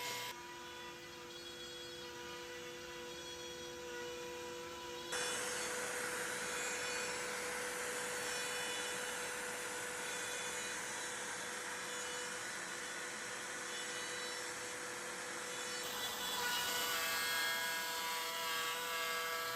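A CNC router fitted with a compression cutter cuts wood, a steady high whine and whir that steps up in loudness partway through and holds, with no talking.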